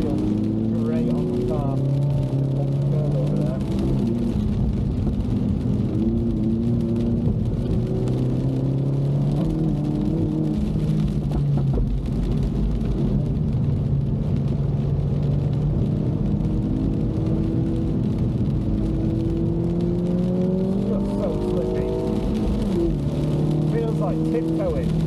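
A Mini Cooper S is driven hard around the Blyton Park race track, its engine droning loudly and continuously, pitch climbing and falling through gear changes and corners over a long stretch, with wind and road noise mixed in.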